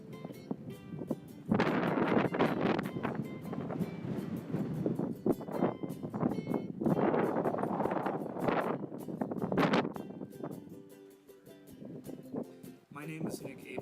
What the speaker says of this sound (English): The weather was beautiful, but it was crazy windy.